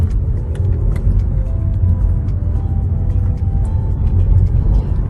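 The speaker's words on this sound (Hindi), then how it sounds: "रात में हम बड़ा स्पीड जा रहे हैं कि ये ट्रैफिक कम है" A car drives through London traffic at night, a steady loud engine and road rumble heard from inside the vehicle with faint passing clicks and no talk.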